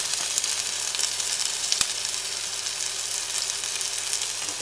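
Minced meat and onions sizzle steadily in a pan, a dense close frying hiss with faint occasional crackles and one light knock.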